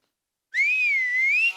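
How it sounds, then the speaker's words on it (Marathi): A woman whistles a single sustained, clear tone with a gentle wavering pitch, close and loud, starting after a brief silence and ending abruptly. "बाई खरी शिट्टी वाजवते"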